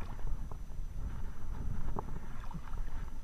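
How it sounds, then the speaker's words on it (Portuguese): Wind gusting across a lagoon on a cold, drizzly day, heard as a steady low rumble of buffeting with a few faint splashes, continuous and fairly loud, with no voices. "Hoje tem bastante vento na lagoa, né?"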